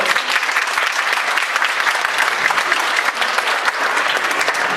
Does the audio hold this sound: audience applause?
yes